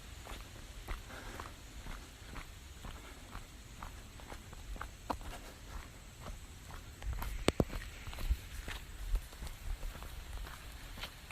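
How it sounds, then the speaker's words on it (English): Raindrops hit leaves high overhead in woods near a Bethlehem and Allentown overlook, making scattered soft irregular pats with a few sharper, louder taps, and no one speaks. "it is raindrops hitting those leaves high above"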